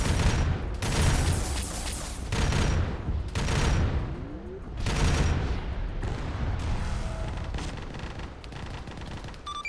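Gunfire in the military shooter video game ARMA 3, heavy bursts of shots and booms coming in repeated waves, loud and close, with some radio-style talk mixed in.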